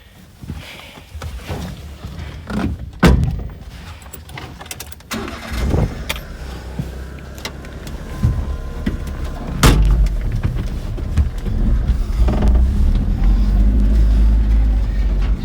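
A Mitsubishi 4x4 Japanese mini truck, street legal, cranks and starts with a few sharp mechanical clunks and door sounds, then its small engine idles and pulls away, revving louder and steadier as it drives off.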